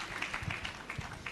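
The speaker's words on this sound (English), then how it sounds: "So big round of applause to all of us." Brief burst of audience applause in an auditorium at a pharmacy conference, with scattered claps rising and falling over a moderate, roomy backdrop.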